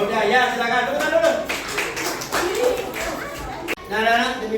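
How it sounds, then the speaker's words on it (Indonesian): A class of schoolchildren claps briefly after a poem reading, the clapping mixed with a teacher speaking and classroom voices. "silakan tepuk dulu"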